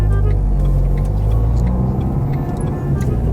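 A car pulls away in first gear during a driving lesson, its engine producing a loud, steady low rumble with faint ticking, close by throughout.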